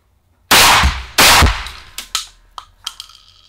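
A Beretta A400 Upland semi-automatic shotgun fires two loud, close blasts at a shooting range, followed by several sharp metallic clanks and clicks of the action cycling.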